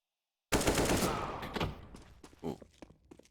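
An AK rifle in a Counter-Strike esports match on the Overpass map at IEM Dallas 2022 cracks out a sudden loud burst of rapid shots after silence. A few scattered softer hits and thuds follow.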